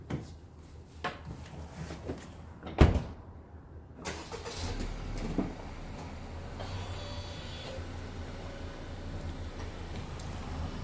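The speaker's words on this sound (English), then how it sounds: "Let's go ahead and move the hot rod out." A hot rod's engine cranks and catches with a loud burst after a few clicks and thumps, then settles into a low, steady idle and rumble as the car starts moving.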